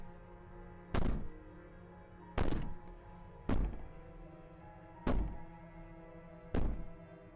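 In the video game Slay the Princess, something bangs heavily against a wall, five loud, deep thuds spaced about a second apart over a quiet hum, with no voices.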